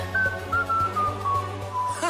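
A cartoon character whistles a short, wavering tune of several descending notes over a low humming background.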